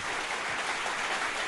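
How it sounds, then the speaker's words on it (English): Audience at a health awards evening in Bhubaneswar breaking into a dense, loud round of applause, continuous clapping filling the hall without voices. "and give yourselves a round of applause."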